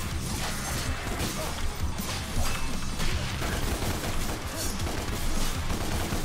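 Continuous gunfire in the video game DmC: Devil May Cry, dense rapid shots merging with crashing combat effects into a loud, steady barrage throughout.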